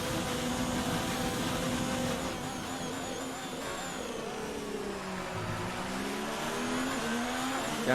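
Formula 1 car in the F1 2019 racing game, a Ferrari at the USA round, its engine droning loud and steady throughout with shifting pitch as it brakes and accelerates, no talk.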